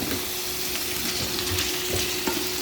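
Chicken curry with potatoes and carrots stir-fries in oil, a steady close-up sizzle with occasional scraping stirs and a constant faint hum, no voices.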